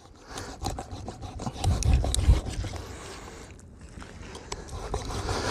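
A knife saws and scrapes through a hard whole fish being cut for zarandeado, in repeated rough rasping strokes, close up and fairly loud, with no talk.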